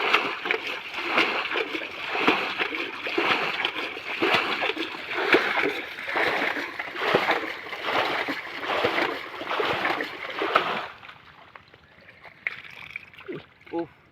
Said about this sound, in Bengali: জল আসতেছে সে চলছে